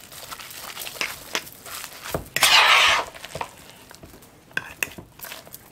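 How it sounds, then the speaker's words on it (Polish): A fork stirs raw ground-meat filling for pierogi, with soft, uneven mixing and scraping strokes and one louder, rougher burst partway through, close by with no talk. "Ja będę mieszała z 2-3 minuty widelcem."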